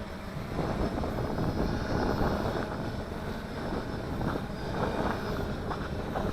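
An XK Detect X380 drone descends to land outdoors in a light breeze, its propellers giving off a steady, close, broadband whir that stays loud throughout.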